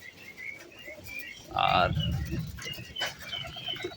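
Pet pigeons in a home loft, soft low cooing and a few chirps close by, with a brief spoken word from a person nearby.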